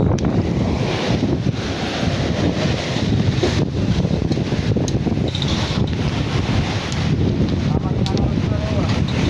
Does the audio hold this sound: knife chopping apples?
no